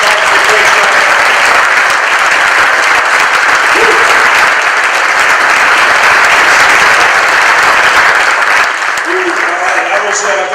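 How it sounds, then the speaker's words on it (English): Sustained audience applause at a retirement ceremony, a dense, steady clapping from a large crowd filling the room at high level, easing slightly near the end. "let's give them a round of applause"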